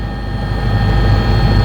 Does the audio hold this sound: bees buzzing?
no